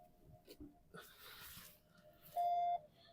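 Dashboard chime of a 2023 Nissan Qashqai as the ignition is switched on, a single clear electronic tone near the end after faint handling noises and breathing.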